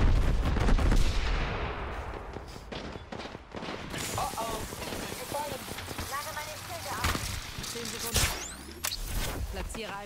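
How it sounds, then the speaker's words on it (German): Enemy gunfire in the Apex Legends video game, a dense burst of rapid shots in the opening seconds, then scattered cracks and impacts continuing under other game sounds and a talking voice. "Die Gegner schießen auf mich."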